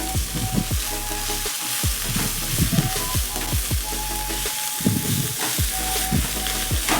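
Mint, coriander leaves and tomato fry in oil over a medium flame, a loud, constant close sizzle with repeated stirring scrapes throughout and no speech.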